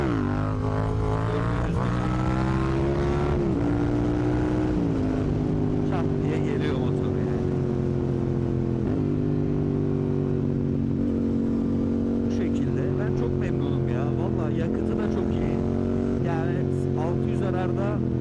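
A Yamaha MT-07 motorcycle engine drones close and continuously while riding, its pitch climbing and dropping with the revs through several gear changes.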